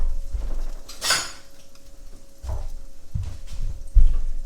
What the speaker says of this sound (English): I'm just going to take it right out with a spatula. I'm not going to try to mess with that hot pan.